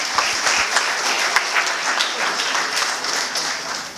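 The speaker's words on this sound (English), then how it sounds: "Can we have a huge round of applause for this?" An audience at a medical association installation ceremony applauds with steady, bright clapping from many hands, a few sharper claps standing out near the start before it tapers slightly.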